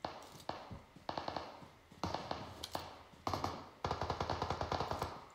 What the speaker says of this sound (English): I don't see the gun where the gunshots are coming from yet.